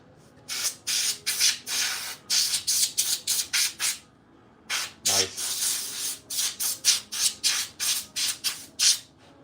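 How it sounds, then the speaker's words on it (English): Short bursts of compressed air duster hiss in quick, irregular puffs, clearing dust from the switches of an Atari Light Sixer console. The sprays come close and fairly loud, with a brief squeak in the middle. "I'm gonna hit it with some duster, but I don't want to blow dust all over here"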